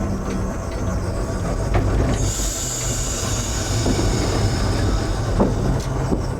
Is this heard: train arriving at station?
yes